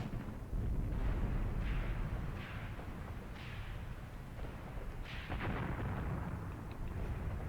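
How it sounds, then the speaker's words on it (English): Distant gunfire from scouts in Graviteam Tactics, a wartime tactics game, rolls as dull, booming bursts over a constant low battlefield rumble, with no talking. "my scouts that I have here as flanking protection are firing at something"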